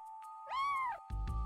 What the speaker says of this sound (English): No, it's just a cat.